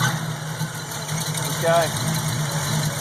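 Car engine fitted with a replacement Holley 670 Street Avenger carburetor, running at a steady, even idle close by after a bump of the key. A voice speaks briefly over it.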